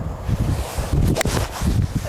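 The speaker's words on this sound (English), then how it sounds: "because it is quite windy today" Gusty wind on a golf course buffets the microphone with a steady, rough low roar that swells and dips over two seconds.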